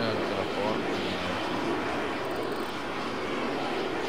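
Airplane engine in the video game Arma 3 Exile, a steady broadband droning roar held at constant loudness, fairly close, with faint talk mixed in.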